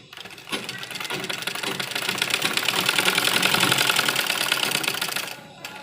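A sewing machine runs steadily for several seconds, stitching a sleeve onto a suit made from an old dupatta, its rapid mechanical rattle close and loud, fading at the end.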